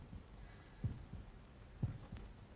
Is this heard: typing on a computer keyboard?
no